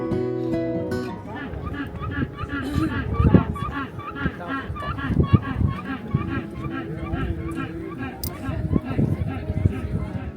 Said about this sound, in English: When you saw the penguins as individuals, they didn't seem to make too much noise, but once they were all together in one space, it was loud.